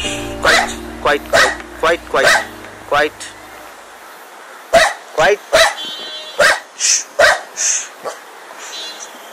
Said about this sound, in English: There's a dog over there and it's barking.